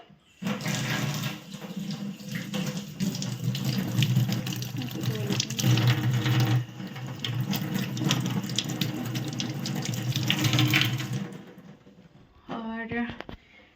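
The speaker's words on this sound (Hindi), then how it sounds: "अभी मैं ना 2 एप्पल लेती हूँ छोटे छोटे, अभी उनको ऐसे धो लेती हूँ" Tap water runs steadily into a sink as two small apples are washed beneath it, a close continuous splashing rush for about ten seconds before stopping, with someone talking over it.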